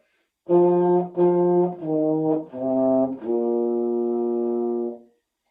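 A baritone horn plays a short descending melody of five sustained notes, the last held longest, rich and mellow, heard close with no voices.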